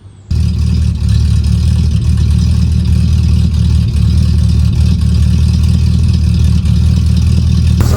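A 1976 Ford Granada's 351 Windsor V8 idles loud and close, starting in with a steady, even rumble that holds unchanged throughout.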